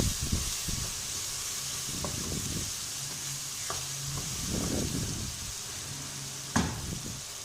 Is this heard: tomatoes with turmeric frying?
yes